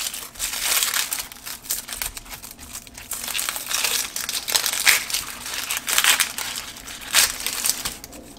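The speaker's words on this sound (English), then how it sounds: "Give it a little slice and it'll peel right off." Skin being peeled off a meat log for classic meatloaf, a close, steady crinkling and crushing texture with brief louder rustles, no talk.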